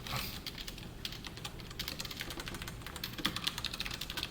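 Fast, steady typing on a computer keyboard while coding HTML and CSS, a dense run of close, light key clicks with no pauses and no one speaking.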